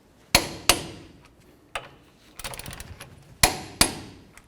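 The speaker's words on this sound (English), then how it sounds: "Let's torque these to 148 foot-pounds." A torque wrench on the brake caliper bracket bolts of a 2004-08 Ford F-150 gives sharp metallic clicks, mostly in close pairs, with short rattling between them.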